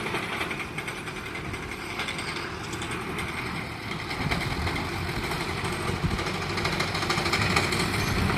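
A lawnmower engine drones steadily and loudly, a constant rattling hum that swells slightly in the second half as it keeps cutting.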